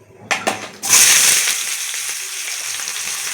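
Chopped onion tipped into hot oil for a fenugreek-leaf (methi) vegetable dish: a couple of light clatters, then a sudden loud sizzle that settles into a steady close frying hiss.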